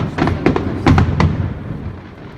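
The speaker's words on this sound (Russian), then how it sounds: "Вау, вот это большой салют" Large festive fireworks salute bursting outdoors, several sharp booms and thuds in quick succession, then fading into a low rumble.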